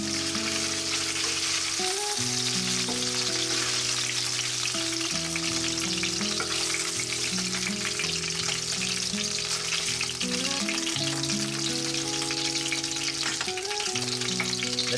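Potatoes and carrots sauté for Filipino pork rib kaldereta, a steady, dense sizzle running throughout beneath loud melodic background music.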